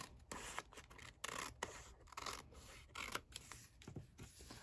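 Scissors cutting paper for a junk journal, a string of quiet, close snips and rustles in an uneven rhythm, with no talking.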